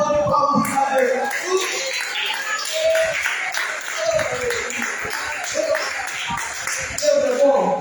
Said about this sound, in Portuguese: Dá uma salva de palmas de cadeira.